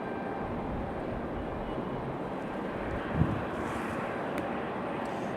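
A United airliner taxis at Raleigh Durham airport with a steady, distant jet-engine rumble and some wind noise on the microphone.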